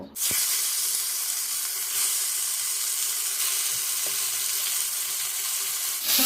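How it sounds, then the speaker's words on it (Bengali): Flat beans fry in mustard oil in a pan, giving a loud, steady hiss of sizzling that starts abruptly and holds evenly, with a few faint clinks of stirring. "সামান্য একটু সর্ষের তেল দিয়ে দিয়েছি সিমগুলো দিয়ে দেবো একটু ভেজে নেব"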